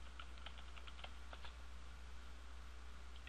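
Quiet, quick keystrokes on a computer keyboard as a CAPTCHA is typed in, a short burst of light clicks over a steady low hum.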